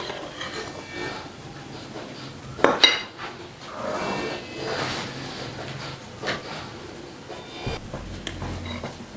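Utensil scraping and clinking against a bowl while shawarma coating is mixed, a steady run of soft stirring clatter with one sharper knock near the middle.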